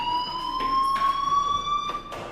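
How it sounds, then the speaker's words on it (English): A school fire alarm in the video game Life is Strange rings steadily throughout, a continuous electronic tone with faint rhythmic pulsing, fairly loud and close, with no talking. "Hey, do you hear that fire alarm?"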